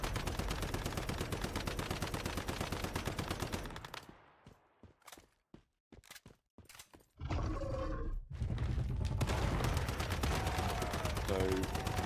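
Heavy gunfire in Warhammer 40K Rogue Trader, with dense, loud rapid volleys that drop to a few separate sharp shots, then a roaring burst of game combat noise.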